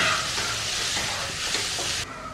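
Soya chunks sauté in oil in a pan, a dense, close, steady sizzle with faint stirring scrapes that abruptly drops in level near the end.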